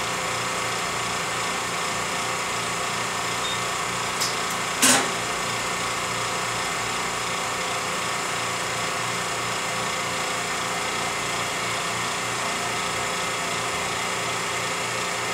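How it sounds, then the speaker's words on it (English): A Karl Suss MA6 BSA mask aligner runs through wedge error compensation with a steady mechanical hum and whine, plus one brief sharp click or hiss midway, with no talk. "We'll now go up and do wedge error compensation and bring the microscope down for viewing."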